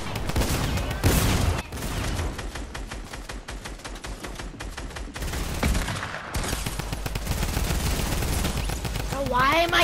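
Dense rapid gunfire in an online shooter game, rattling bursts and overlapping shots nearly throughout, loud and close, with brief lulls and people talking over it in places.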